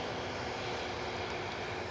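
An aircraft engine roars steadily at Edinburgh Airport, a close, continuous broadband rumble from planes near the viewing position during take-offs, with no voices over it.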